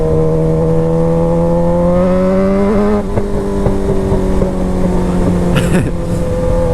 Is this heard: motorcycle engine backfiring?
yes